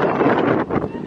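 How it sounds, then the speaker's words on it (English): Loud, blustery wind in Hawaii buffeting the microphone in a continuous rumbling roar, with gusts rising and falling over the short moment. "It is so windy."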